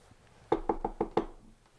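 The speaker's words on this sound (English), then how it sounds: "Why is she knocking on the door?" A door knock acted out in the middle of a story: five sharp, evenly spaced raps, close and fairly loud, with quiet surroundings before and after.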